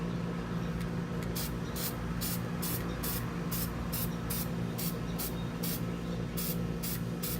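Black spray paint hisses onto a sign in a series of short bursts, each spurt cutting in and out over steady background rumble.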